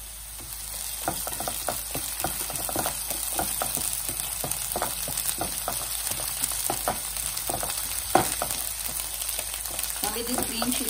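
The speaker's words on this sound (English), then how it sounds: "Now we'll add these green chilies." Green chilies sizzle steadily in a hot pan with onions for a moong dal kachori stuffing, with stirring clicks and scrapes scattered through the close, even frying hiss.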